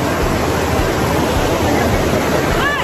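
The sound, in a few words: continuous water flowing over rocks at a resort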